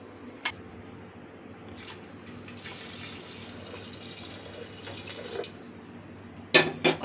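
Water runs from a tap into a pressure cooker in a home kitchen, a steady splashing stream, with sharp clanks of metal cookware at the start and close to the end.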